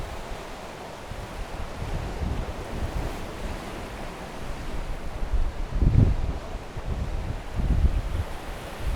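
Strong gusting wind buffets the microphone in a steady low roar, swelling into louder bursts, with surf washing in the background, on the coast at St Michael's Mount, Cornwall.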